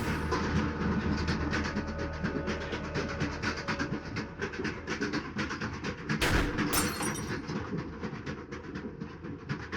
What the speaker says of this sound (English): Train's currently moving.